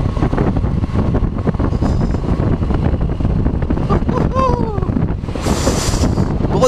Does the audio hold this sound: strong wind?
yes